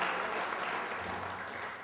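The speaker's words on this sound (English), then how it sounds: "And I think a nice round of applause for Donna Amesmeyer for doing a great job" A short burst of audience applause, steady clapping from many hands, fairly soft and fading slightly at the end.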